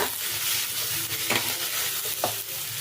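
Roasted gram frying and being stirred in a pan for a sprouted horse gram curry, a close, steady sizzle with a few brief scraping strokes of a spoon, no talk.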